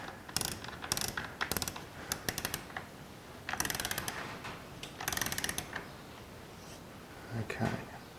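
A torque wrench tightening the cylinder head guard bolts on a 2018 BMW R1200GS Adventure to 75 inch-pounds, giving close, crisp bursts of rapid ratchet clicks in several separate runs with short pauses between.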